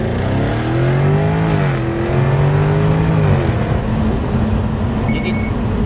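Jaguar F-type R V8 engine revving hard through a launch, a loud, close, sustained roar with rising and falling pitch as it pulls through the gears, alone without talk.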